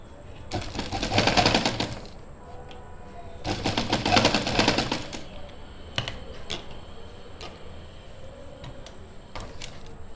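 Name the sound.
sewing machine stitching buckram on a suit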